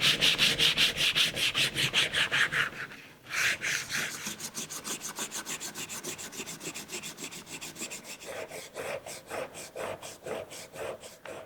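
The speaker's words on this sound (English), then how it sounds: "I'm not very good with the hand plane, so I'm just going to use sandpaper" Sandpaper rubs by hand along a custom wooden molding profile in brisk back-and-forth strokes, loud and close, with a brief pause before the steady rhythmic rasping resumes.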